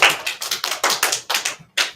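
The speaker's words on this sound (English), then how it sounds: "Everybody give him a round of applause." Audience at a school assembly applauds a student coming up for an award, with bursts of hand clapping in loose uneven waves, close and fairly loud, briefly pausing before a final burst.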